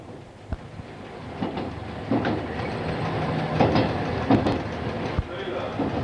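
Cab-ride rumble of a train on the Udine–Tarvisio line, a steady low rolling drone with occasional faint clicks and knocks from the rails, moderately loud and continuous.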